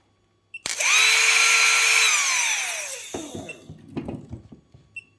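A cordless drill powered by a 12-volt lithium battery pack spins up with a sharp start into a high, steady whine, then winds down over about two seconds, followed by scattered clicks and handling knocks, close and loud.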